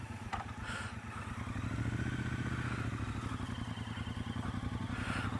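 2017 Triumph Bobber motorcycle engine running, a steady low rumbling idle with fine rhythmic pulses and faint clatter, heard close and alone.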